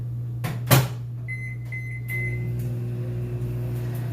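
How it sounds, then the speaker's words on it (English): A microwave oven melting chocolate for no-bake gluten-free cookies: a clunk from the door, a short run of beeps, then a steady close electrical hum. "I'm going to pop this in the microwave real quick."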